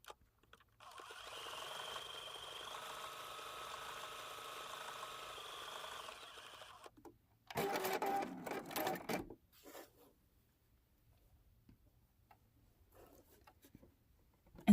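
A sewing machine stitches a fusible applique, a steady rapid mechanical whir for several seconds, followed by a short busier burst of clacking and rattling, then near silence.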